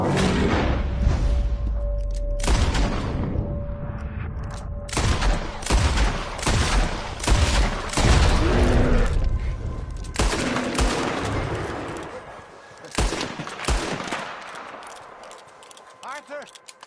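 Gunfire from a Red Dead Redemption II shootout, with rapid overlapping shots and heavy blasts in dense bursts through most of the stretch. The shots thin out toward the end, and voices shout over them.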